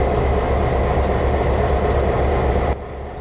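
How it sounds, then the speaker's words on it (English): CP Hudson steam locomotive 2816, pulling a special excursion train, gets underway with a loud, dense rolling rumble that suddenly drops to a quieter level near the end. "Soon it was time for the special train to get back underway"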